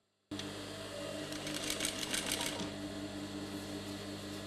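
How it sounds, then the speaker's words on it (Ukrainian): A sewing machine in a puppet theatre workshop stitches a fabric ball cover, its motor starting abruptly and running in a steady close whir with a rapid rattling needle. "Бутафорку Наталію наша знімальна група застала за швейною машинкою. Вона шиє чохол для м'яча"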